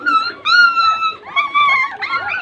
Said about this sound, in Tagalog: napakaingay talaga ng aso natin